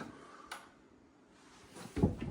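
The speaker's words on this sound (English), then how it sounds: "this giant green door slides" A large green cabinet door slides along its track in a mid-century house, a soft rolling rumble that ends in a louder thud and clatter near the close.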